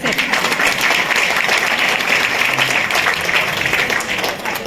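A crowd applauds at a terrace-garden farming award ceremony with loud, steady, continuous clapping that fills the whole stretch without pause.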